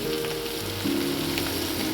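Fish head pieces fry in hot oil in a pan for a taro dish, a close, steady sizzle with faint crackle and no voices.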